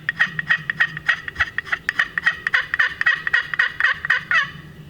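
A hunter's call imitates a turkey hen, giving a loud, close run of about twenty quick, evenly spaced yelps over five seconds with nothing else behind it.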